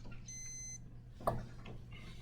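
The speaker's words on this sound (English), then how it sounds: "I don't know what is beeping now" Faint high-pitched electronic beeps repeat in a steady series over a low hum, with a brief thump partway through.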